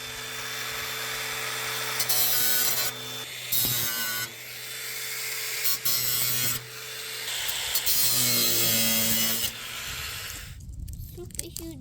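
Angle grinder with a cutting disc running: a steady, loud, high whining grind that holds for several seconds, briefly cuts out and resumes, then stops near the end, with voices talking over it.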